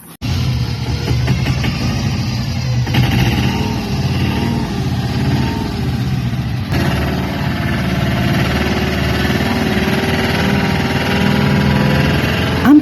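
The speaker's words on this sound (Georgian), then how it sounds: "ყველაზე ადვილად ეს პატარა ტრაქტორი მიდის, რომელსაც ფათფათაზე ძახიან." A small tractor's engine runs loud and close on a rural village road, with a steady, throbbing chug that holds for the whole stretch.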